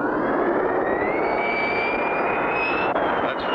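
A cartoon airplane's engine starter whines steadily and rises slightly in pitch, cranking without the engine catching, loud and continuous against a dense noisy background.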